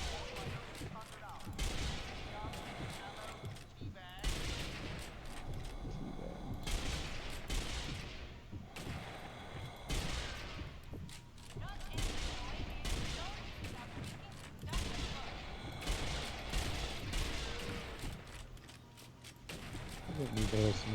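Rapid bursts of gunfire crackle almost continuously at a shooting range in the video game Zombie Army Trilogy, loud volleys repeating with short gaps and voices talking over them.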